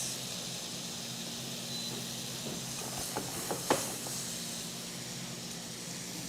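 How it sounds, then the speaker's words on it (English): Thin lemon slices fry in browning butter with capers in a pan, giving a steady close hiss and sizzle that holds throughout, with a few brief crackles near the middle. "I'm going to fry these for about 10 seconds"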